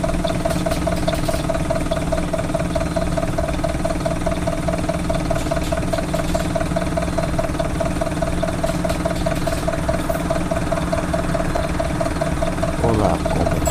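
A Mercedes-Benz OF-1721 bus engine idles on a Marcopolo Torino 2014 city bus, a loud, steady, close diesel rumble with an even mechanical pulse throughout.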